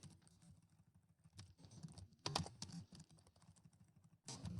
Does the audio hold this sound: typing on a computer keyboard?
yes